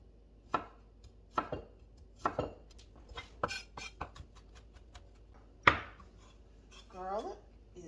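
Garlic cloves being minced with a knife on a cutting board: a series of sharp, close chopping taps in small irregular bursts, with a faint voice-like sound near the end.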